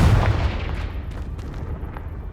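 A Confringo blasting spell in Hogwarts Legacy goes off as a single booming explosion that hits hard at the start and then rumbles away in a fading tail, with no voices.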